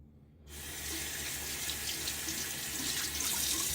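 Cold tap water starts running into a sink after a brief silence, a steady close rushing flow that holds for several seconds before a wet shave, with no talk.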